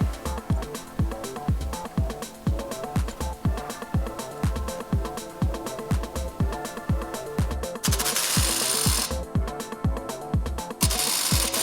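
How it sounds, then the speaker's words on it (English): An impact wrench tightens a nut to press a wheel bearing out of the knuckle of a 2006-2011 Honda Civic, hammering in fast repeated close-up blows before a steadier buzzing burst near the end. "tighten this nut with an impact, it pulls this plate forward, pushes the bearing out of the knuckle and into the cup"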